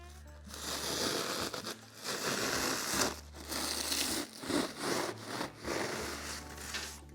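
A blade saws back and forth through a chunk of cured spray foam insulation with rocks stuck to it, giving rough rasping strokes in an uneven rhythm with short pauses between them, close and fairly loud.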